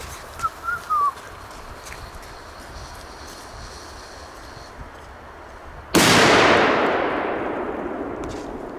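A Polish firecracker explodes outdoors in one sharp, loud bang that rings and fades over a few seconds, after a stretch of quiet background with a brief voice near the start.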